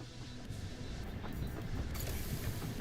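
Rhythmic clatter and creaking of a rail carriage during a train ride in the video game Duet Night Abyss, a steady mechanical rumble with repeating knocks, fairly loud and continuous with no talk.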